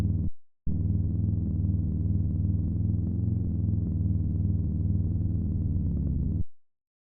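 A layered electronic music drop, shaped with EQ and soft clipping, sits as a dense, steady, buzzy synth pad. It cuts out briefly near the start, then sustains loud and alone before stopping abruptly.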